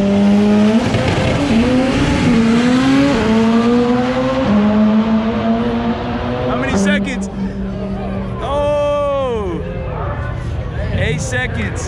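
A drag car on slicks launches hard at Fuel Fest in Phoenix, Arizona. Its loud engine climbs through rising gear pulls, then a sweeping pass-by fades into crowd noise and shouts.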